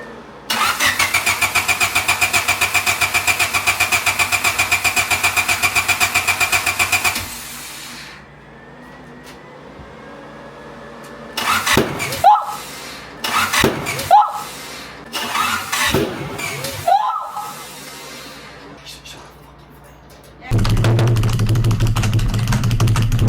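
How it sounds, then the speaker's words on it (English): A slammed turbocharged Honda Civic engine fires up for the first time, first holding a loud rapid rumbling run, then falling quiet before several sharp backfire bangs and sputters, and finally settling into a steady loud running drone. "went for the first start, started backfiring like crazy"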